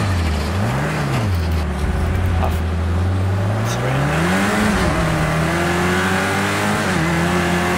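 A race car engine in Project Cars 2 revs up and down through gear changes, its pitch sweeping steadily as the car accelerates and brakes. The engine drones loud and close, with a voice speaking over it.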